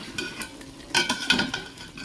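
Salt being stirred into a pot of vegetarian jackfruit pulao, a spoon scraping and clinking against the pan in a few short, close strokes, with no voices.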